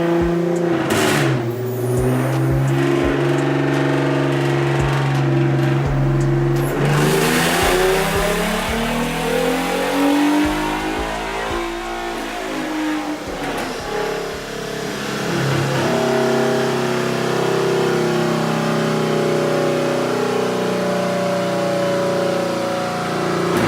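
Modded 2011 Ford Mustang V6 on a dyno, loud engine revving that climbs and falls in pitch through several pulls, close and droning with heavy low rumble.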